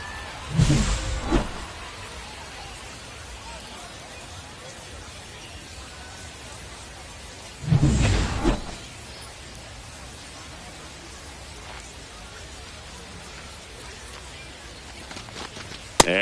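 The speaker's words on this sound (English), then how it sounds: "This rain is not letting up." Steady rain falls in the MLB The Show 25 baseball game, a constant hiss of wide noise broken by two brief louder bursts and a sharp click at the end.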